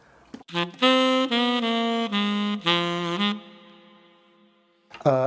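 Saxophone plays a short phrase climbing the blues scale from root to fifth, a few sustained, clear notes in sequence with a held final tone that fades, then a brief new attack at the end; no talking.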